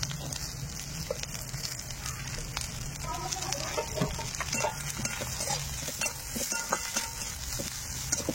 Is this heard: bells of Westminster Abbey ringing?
no